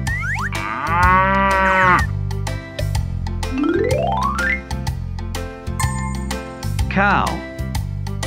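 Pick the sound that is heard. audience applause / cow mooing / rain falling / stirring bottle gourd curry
cow mooing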